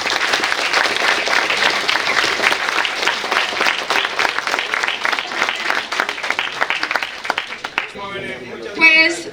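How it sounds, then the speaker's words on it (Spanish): Loud, dense audience applause at a student panel discussion on Gaza, sustained for about eight seconds before dying away as a voice begins speaking at the end. "brindémosles un fuerte y caluroso aplauso"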